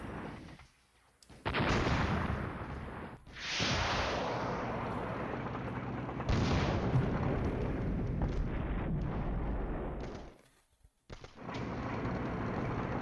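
Artillery shells strike tanks in a NATO-versus-Soviet war video game: long rumbling blasts and sustained explosive roar, broken by brief near-silent gaps, loud and heavy without speech.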